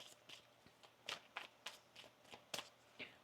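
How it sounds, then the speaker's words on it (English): Tarot cards are shuffled in a quiet room, a series of soft riffling bursts about every half second, faint and close with no talking. "One more shuffle."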